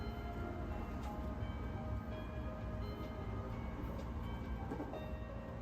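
Inside a train on Japan's Tokaido Line, a low, steady rumble of the carriage rolling along with faint mechanical hum, continuous and even throughout.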